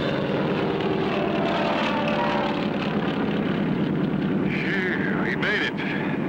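A propeller airplane takes off, its engine a steady, loud drone that fills the whole stretch, with people talking over it.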